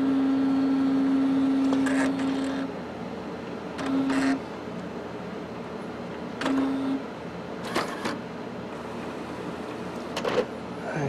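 An Epson SureColor P400 inkjet printer at work, its print head carriage making repeated mechanical whirs and short buzzing passes, with several distinct bursts of movement spread over a steady low background hum.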